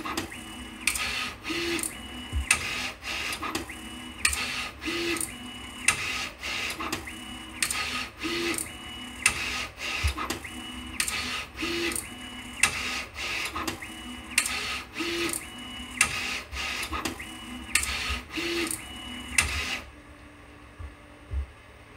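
A 3D printer with a magnetic IDEX tool changer runs repeated T0 and T1 tool changes, producing rhythmic bursts of motor whine and sharp mechanical clacks in a regular cycle before stopping abruptly near the end.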